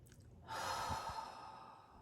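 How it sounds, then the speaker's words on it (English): Deep breath drawn in and let out slowly during a guided self-improvement exercise, a soft airy rush starting after a brief quiet moment and sustained, close and gentle. "Take a deep breath, hold it at the top."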